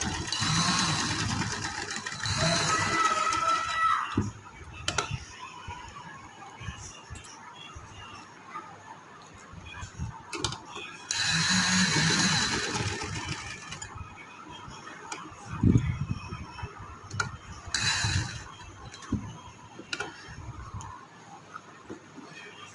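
A sewing machine stitches a V collar with a short placket on a kurti, running in several short bursts of rapid mechanical whirring separated by quieter pauses with some handling noise and talking.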